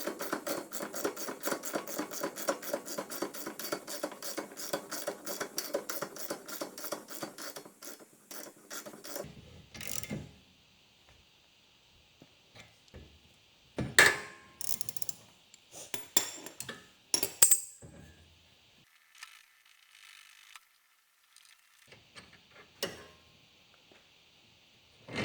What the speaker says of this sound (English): I set up the tool one last time to press the hub into the bearing.